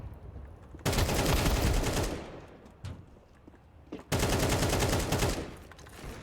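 Two long bursts of rapid automatic gunfire in the video game Counter-Strike 2, loud and close, separated by a short pause with a few isolated shots and thuds.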